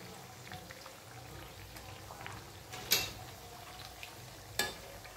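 Chakli frying in hot oil makes a soft, steady sizzle. Two brief sharper clinks or splashes break through the bubbling.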